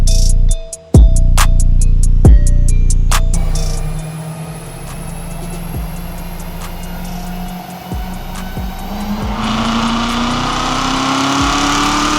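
A stock 2016 Chevrolet Corvette C7 Z06 strapped to a dyno roars loudly through a baseline pull. Sharp blips open the run, then the engine climbs steadily through the revs and holds a long, loud wail to the end, with no talking.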